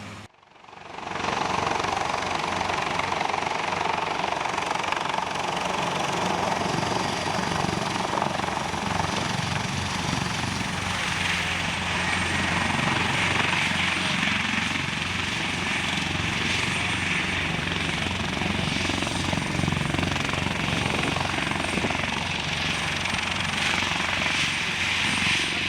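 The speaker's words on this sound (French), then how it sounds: "Il bénéficiera de Tactical Medical Evacuation en hélicoptère." A Caracal military helicopter flying a tactical medical evacuation during a military exercise, its engine and rotor roar rising within the first second and then holding loud and steady for about twenty-five seconds.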